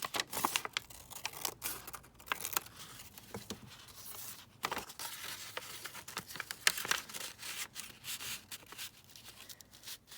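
A collage paper sheet is trimmed by hand, giving soft, close crinkles, rustles and crisp tearing or snipping bursts in an irregular rhythm at low volume, with no voices.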